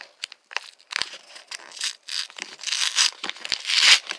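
Taped cardboard package being ripped open by hand, a string of sharp tearing and crinkling bursts, close and uneven, growing louder toward the end.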